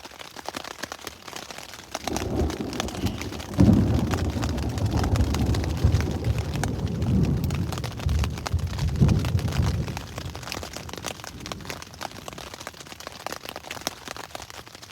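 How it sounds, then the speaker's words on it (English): Heavy rain pouring at a canoe campsite on Cliff Lake, Temagami, a dense, continuous patter on a surface nearby, with a low rumble of thunder swelling through the middle before easing back to steady rainfall. "It was just pouring really hard."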